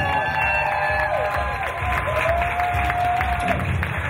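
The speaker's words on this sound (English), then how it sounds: "One last round of applause for absolutely everyone." A charity ballroom dance event audience breaks into a loud, sustained round of applause, the clapping full and continuous, with a few faint cheers and a thin tone running beneath.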